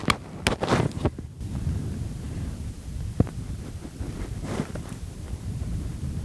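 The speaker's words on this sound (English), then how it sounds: "Hopefully the wind doesn't blow it away." Wind buffets a microphone outdoors during cooking, a low steady rumble with gusty bursts and a few brief knocks, loud and continuous throughout with no talking.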